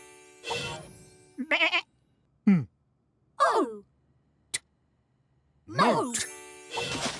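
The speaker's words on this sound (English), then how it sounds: "Goat." Goat bleats several times in short separate calls, close and clear, with quiet gaps between them and a voice heard briefly.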